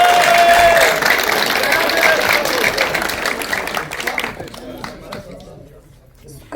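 Audience applause mixed with cheering at a graduation ceremony for a vocational technical high school in Burgas, Bulgaria. A dense, loud burst of clapping from a large crowd fades toward the end.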